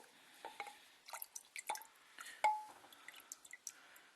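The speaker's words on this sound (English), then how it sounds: "You just turn that over and it'll drain everything out of the bottom of the tank" Diesel fuel drips irregularly from the drain valve of a fuel filter on a 24-valve 5.9 Cummins engine, a close, faint series of small plops and taps scattered unevenly over a few seconds.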